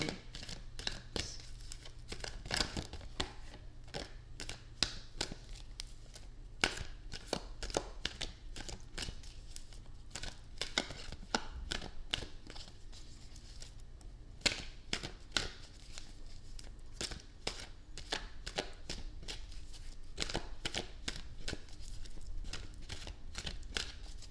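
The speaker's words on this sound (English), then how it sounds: "I was trying to shuffle more if I can get a clear answer." Tarot cards shuffled by hand, making a dense, continuous run of crisp riffling and flicking snaps at close range that go on steadily for the whole stretch with no voices.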